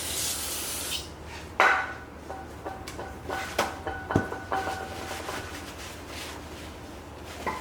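Repeated scraping and rubbing strokes against a metal brake caliper bracket while scrubbing off old grease, close by and moderately loud, with a few sharper scratches in an irregular rhythm.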